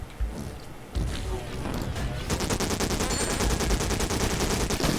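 Rapid automatic gunfire in the online arena shooter Morphies Law, a dense stream of shots that starts after a few scattered thumps and runs steadily to the end, with a player talking over it.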